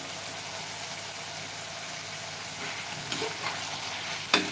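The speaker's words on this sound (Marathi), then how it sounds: "आता आपण जे तळून घेतलेलं फ्लावर आणि बटाटा आहे ना तो घालायचा आहे" Fried cauliflower and potato pieces drop into a pan of hot, oily spiced masala, giving a steady close sizzle with a few louder crackles and a sharp clatter near the end.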